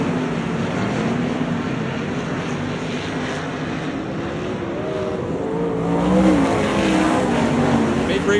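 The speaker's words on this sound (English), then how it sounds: "Douglas County dirt track and sprint cars go hand in hand" Sprint cars roar around the Douglas County dirt track in a dense, continuous engine drone, with rising and falling pitches as cars pass. The sound is loud and steady, with faint crowd or voice sounds mixed in.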